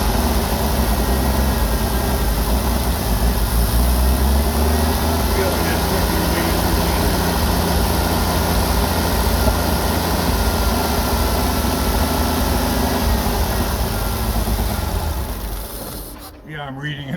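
A Jeep CJ-7 engine with a Holley Pro-Jection 1D throttle-body injection runs lean and struggles to idle, a steady low rumble with vibration that holds for most of the stretch before dropping off at the end.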